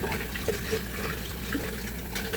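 Water runs steadily from a tap in a home kitchen while cornmeal cake batter is being prepared, a continuous splashing stream with small irregular spatters.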